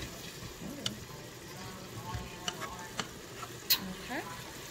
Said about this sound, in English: So the squash and zucchini is cooking down nicely.